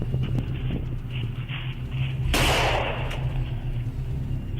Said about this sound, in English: Shots fired, County.